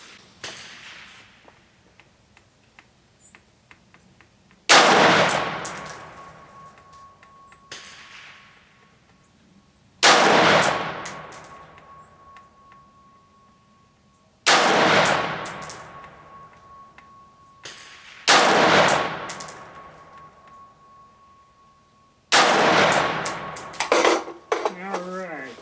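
A Retro 601 rifle fires cheap 55 grain ammunition: six loud, sharp shots spaced several seconds apart, each cracking close by and trailing off in a ringing outdoor echo.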